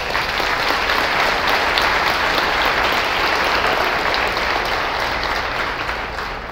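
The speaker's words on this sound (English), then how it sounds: "Round of applause from right now." Sustained applause from a large crowd, dense and steady clapping that fills the space and tapers only slightly toward the end.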